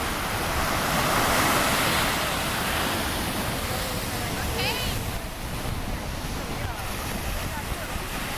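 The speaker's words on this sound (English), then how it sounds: "listening to the waves" Ocean surf at a Hawaii beach washes in a constant broad roar with buffeting wind against the microphone, a faint brief sound cutting in midway, no voices.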